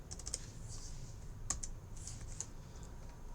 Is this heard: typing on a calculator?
yes